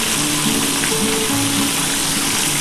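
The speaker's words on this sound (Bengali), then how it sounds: "আমি কিন্তু এইভাবেই ভাজছি" Pomfret fish pieces fry in hot oil with a steady, dense sizzle throughout, close and even in level, with no voices.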